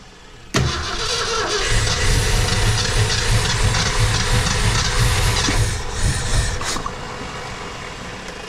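A 1966 Ford Fairlane with a 390FE V8 and a four-speed cranks and then catches with a sudden loud roar. It runs roughly and unevenly for several seconds, up close and with no talk, before the revs settle lower.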